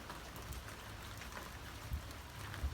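Steady light rain pattering on surfaces outdoors along a mountain road, a faint continuous hiss with a few soft drops standing out, no voices.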